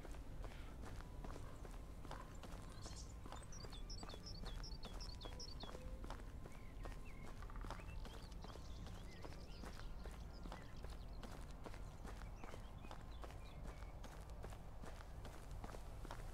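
Hoofbeats of a horse in the video game Medieval Dynasty, moving at a steady trotting rhythm, continuous and fairly close, with faint ambient noise behind.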